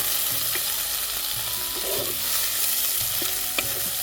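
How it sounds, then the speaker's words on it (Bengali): Sliced onions fry in a pan with a constant close hiss, and a spatula scrapes through them in a repeated rhythm with an occasional light clink. "এটাকে একটু ভাজা ভাজা করে নেব।"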